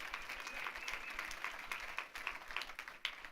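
Congregation at a Spanish-language church service claps together in praise, a soft, distant-sounding burst of applause lasting a few seconds.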